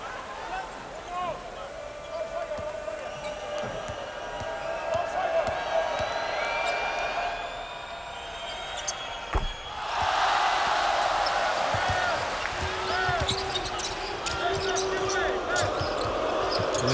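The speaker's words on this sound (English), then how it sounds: "Listen to the crowd" A basketball crowd at a Yao Ming game hums steadily, then swells into a louder roar of cheering about halfway through, with a ball bouncing and a commentator talking over it.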